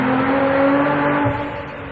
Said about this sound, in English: Romain's on the dyno with the car,